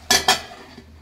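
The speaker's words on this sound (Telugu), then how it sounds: "చూడండి, మూత అయితే పెట్టేస్తున్నాను." A lid set onto a cooking pot holding an egg, capsicum and tomato masala curry, two sharp metallic clanks in quick succession, then a soft faint clink as it settles.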